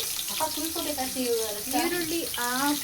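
Oil sizzles steadily in a pan with cloves and onion, a continuous close hiss of frying running underneath a voice talking over it.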